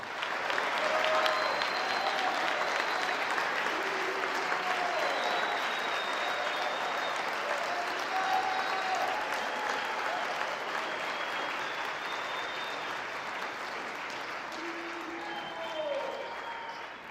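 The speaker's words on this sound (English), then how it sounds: "I think it's time for an applause" A graduation audience applauds in a large hall at a Catholic school ceremony, sustained even clapping at moderate distance that slowly fades toward the end, with a few faint voices in the crowd.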